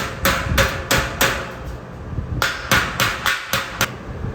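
A hammer taps a carriage bolt into a heavy-duty metal shelf, giving sharp close metallic knocks in two quick rhythmic bursts of about five blows each, separated by a short pause; nobody speaks.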